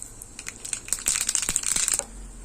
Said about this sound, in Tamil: பக்கத்தில் சின்ன கடாய் வச்சு எண்ணெய் ஊற்றிருக்கோம் எண்ணெய் காஞ்சிருச்சு கடுகு போட்டுக்கலாம்